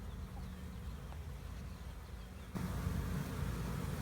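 A dense, steady buzz of honey bees, many of them male drones, crowding the entrance of a busy hive that may be about to swarm. The hum grows slightly louder halfway through.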